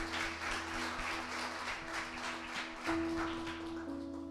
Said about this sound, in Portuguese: vamos receber ele com uma grande salva de palmas